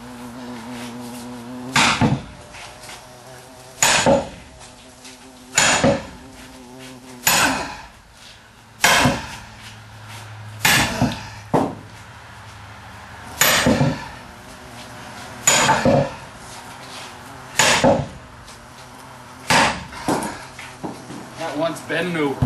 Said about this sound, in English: The log or me with this big sledgehammer.